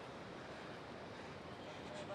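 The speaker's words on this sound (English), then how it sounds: "You can hear the water as well." Ocean waves wash onto the beach at Kuta, Bali, as a faint, steady, distant surf hiss with no distinct breaks.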